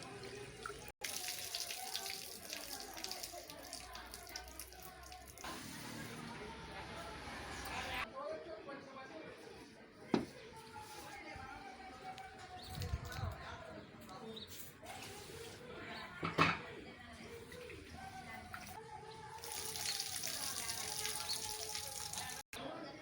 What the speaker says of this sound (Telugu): ఇప్పుడు ఇందులో మనం వాటర్ పోసి నానబెట్టుకోవాలి